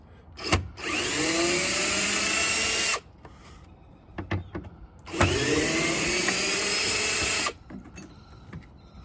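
A power tool whirs in two sustained bursts of a few seconds each, loosening the roof from the roll bar of a Can-Am Commander UTV, with short clicks and handling noises in between.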